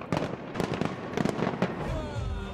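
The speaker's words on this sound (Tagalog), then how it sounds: "umilaw ang fireworks display sa London Eye" A New Year fireworks display at the London Eye, with rapid loud bangs and crackles that settle into a rumbling, hissing tail, heard from a distance.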